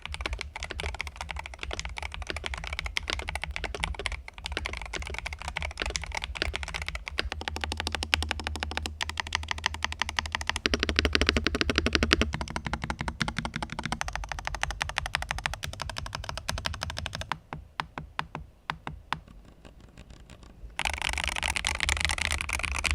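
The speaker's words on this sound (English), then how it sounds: "here's how the keyboard sounds." Typing on a Royal Kludge RK C98 90% magnetic keyboard, a steady stream of close, dense keystrokes that runs alone for over twenty seconds, with bursts shifting in pace and brightness.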